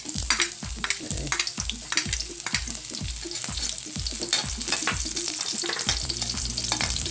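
Onions frying in a pan for a spicy Filipino pork soup, a loud steady sizzle close by, with repeated scraping stirs and clinks of a utensil against the pan all the way through.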